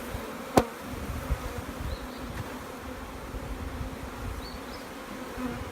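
Honey bees at a queen rearing hive buzz in a steady, close drone, with a single sharp knock early on.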